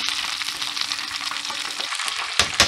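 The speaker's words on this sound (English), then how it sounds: "Let these cook for a while. I'm gonna stir these around a bit." Shrimp frying in a pan for sweet and sour shrimp, a steady close crackling sizzle with stirring scrapes, two sharper clatters near the end, no talk.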